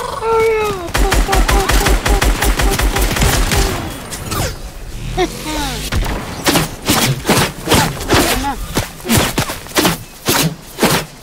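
Rapid bursts of video game gunfire fired at a llama, loud and close, with a fast machine-gun-like rhythm early on, then scattered single shots and thuds while people talk excitedly over it.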